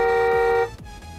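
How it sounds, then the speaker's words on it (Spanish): Steering-wheel horn of a red Land Rover Vogue sounding a single steady, loud tonal honk for about half a second, then cutting off into quiet cabin background. "Volante con claxon."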